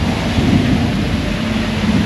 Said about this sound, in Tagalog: May kasama pang kulog.